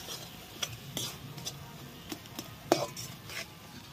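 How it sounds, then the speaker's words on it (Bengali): A soft eggplant and egg dish with coriander leaves being stirred in a pan, quiet sizzling broken by scattered light clicks and taps of a utensil against the pan, close and low, no voices. "ধনেপাতা দিয়ে একটুখানি আর নাড়াচাড়া করবে।"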